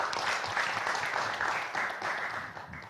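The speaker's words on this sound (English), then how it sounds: "A big applause for that, Pa Sandy." An audience at an annual tourism and creative economy forum claps steadily for Sandiaga Uno, a dense, even burst of applause lasting a few seconds.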